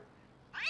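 A cartoon cat gives a short rising meow that starts after a quiet pause and ends the brief moment loud and close.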